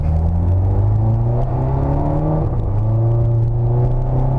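A modified Volkswagen Jetta GLI with DSG gearbox revs hard and loud up close, its droning growl rising and holding steady with a deep rumble throughout.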